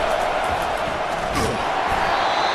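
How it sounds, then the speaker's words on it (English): A stadium crowd in EA College Football 25 roars steadily in a broad, continuous wash of cheering, sustained and loud from start to finish without a break. "this crowd trying to help keep them there"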